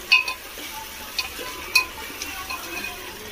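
Sliced onions sizzle softly in a pan as they are stirred toward golden brown for spiced pulao, with a few light metallic clinks of the spoon against the pan and no voices.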